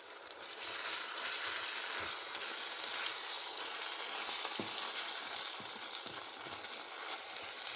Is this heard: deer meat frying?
yes